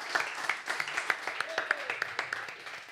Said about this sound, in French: je vous demande de l'applaudir, Eric.